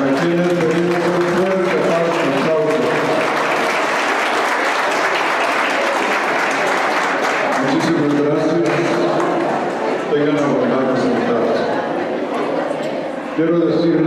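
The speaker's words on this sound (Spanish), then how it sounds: "Para quienes venimos un fuerte aplauso." A church congregation at a memorial service bursts into loud, continuous applause that stays strong throughout, with voices and cheering mixed in among the clapping.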